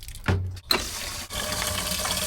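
Water running and splashing from a leaking outdoor hose bib spigot at a grandmother's basement, a steady close rush of flow with a brief break partway through.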